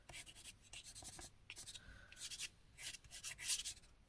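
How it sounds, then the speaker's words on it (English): Pencil scratches and rubs across paper in short strokes, close and quiet, with brief pauses between bursts. "And then I'm just going to use the white pencil"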